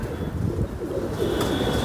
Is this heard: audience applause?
no